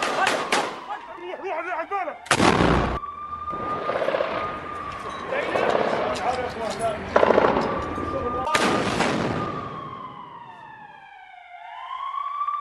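Bursts of gunfire and heavy rocket blasts from Hamas fighters in Gaza combat come as sharp loud cracks and booms, separated by rattling fire and wailing siren-like tones, with voices underneath.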